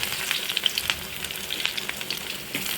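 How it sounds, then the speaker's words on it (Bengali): Slices of bitter gourd (karela) frying in a pan, a close, steady oily sizzle with small crackling pops scattered throughout. "আমার আরেকটা প্রিয় সবজি করলা ভাজি করব"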